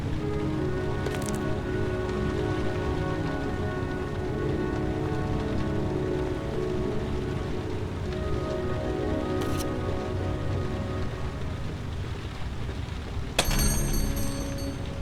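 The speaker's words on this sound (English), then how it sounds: "Goddamn asthma. Can't breathe when it rains." Rain falls steadily in the video game Heavy Rain, a continuous dense patter on surfaces over a low background hum, with a brief sharp sound near the end.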